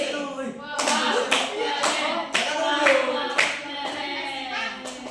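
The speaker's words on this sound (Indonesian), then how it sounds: "Baik, beri tepuk tangan dulu." A classroom of students clap hands in a rhythmic, patterned sequence of sharp bursts, with voices chanting and speaking between the claps during a microteaching English lesson.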